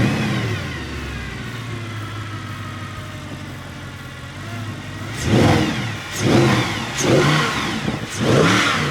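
A classic car from a royal garage in Gondal idles with a low rumble, then gives several sharp revs in quick succession, each one swelling loud and dropping back.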